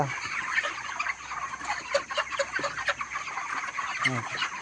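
Poultry-farm chickens cluck and chatter continuously, several birds overlapping in a steady din with occasional sharper calls.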